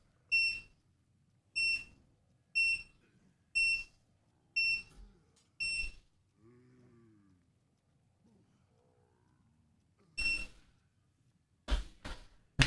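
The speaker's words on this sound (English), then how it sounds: "loud beeps" Loud electronic alarm beeps sound six times in an even rhythm, then again after a pause, with a low moo-like tone and some faint clatter between them.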